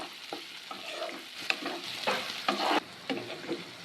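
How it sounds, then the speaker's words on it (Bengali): Chopped onions frying in oil with a little sugar, a bright crackling sizzle with spatula stirring strokes, close and steady, no voices. "এবার আমি দিয়ে দিব কুচি করে রাখা পেঁয়াজ। পেঁয়াজটাকে আমি হালকা করে ভেজে নেব।"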